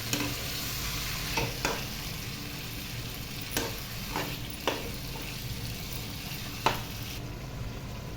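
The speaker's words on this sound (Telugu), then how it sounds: "ఇప్పుడు వీటిని చక్కగా కలుపుకోవాలి" Tomato and cluster bean curry being stirred in a pan, with a steady low sizzle and several distinct scraping strokes of the spoon at irregular intervals, close and moderately loud, with no talking.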